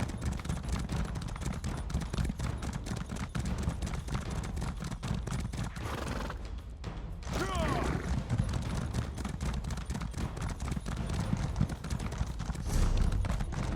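Rapid, rhythmic hoofbeats of a galloping horse in Elder Scrolls Online pound steadily throughout, with a brief whinny partway through.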